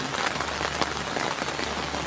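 Rain pours steadily at Ban Khok Sa-at village in Thailand, a dense continuous hiss of drops on surfaces, even and close throughout with no voices.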